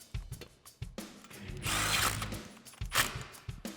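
A ratchet clicks in short, quick bursts while bolts are driven in on a 2018-2021 Mustang headlight, close and moderately loud, with a longer whirring run in the middle and scattered metallic taps.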